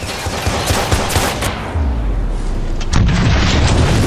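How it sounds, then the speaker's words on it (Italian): A bomb goes off in Watch Dogs on PS5: rapid gunfire-like cracks give way to a loud, deep booming rumble that rolls on, then a second heavy blast surges near the end. "Bomba!"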